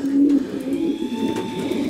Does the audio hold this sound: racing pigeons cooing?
yes